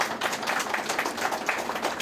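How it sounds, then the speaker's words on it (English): Hospital audience applauding the facility's staff, a continuous even round of clapping from a group of people indoors, fairly soft and alone without talk. "So please join me in giving them a round of applause."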